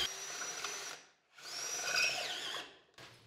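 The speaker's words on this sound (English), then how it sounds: "I aligned the guide block to my mark and started to drill." A drill press whines through wood in two bursts with a brief pause between, the pitch dipping as the bit bites, then a short restart.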